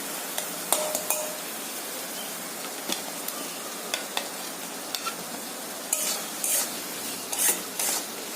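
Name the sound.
potatoes stirred into spice masala in a pan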